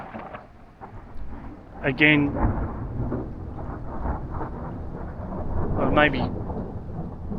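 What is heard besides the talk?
rolling cloud-to-cloud thunder during a thunderstorm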